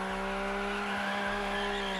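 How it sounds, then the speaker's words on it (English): A car drifts in a circle in the racing video game Test Drive Unlimited Solar Crown, a sustained high engine whine with steady tire squeal, loud and continuous for a couple of seconds. "We'll do a drift in a circle as well."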